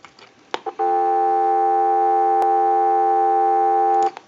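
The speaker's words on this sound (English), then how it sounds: "We want to give you some dial tone." A steady telephone dial tone plays on a line analyzer after a couple of clicks, holding at an even level for about three seconds before cutting off.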